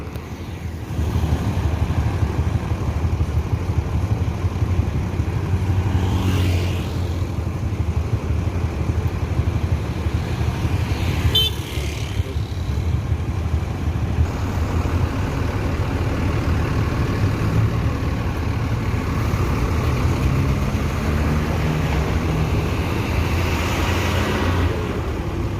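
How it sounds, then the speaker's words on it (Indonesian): Bus pulling away, a continuous low diesel engine rumble with traffic noise around it, steady and fairly loud throughout with faint passing whooshes. "ANS ini bus sumber pertama berangkat"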